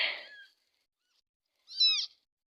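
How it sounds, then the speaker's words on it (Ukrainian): A beige kitten mews twice, close and clear, with a brief first cry and a short silence before a second, rising meow. "Бежевий котик."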